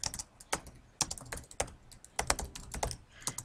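Rapid, uneven clatter of keys on a computer keyboard, close and fairly quiet, with short bursts of typing broken by brief pauses and a few heavier keystrokes.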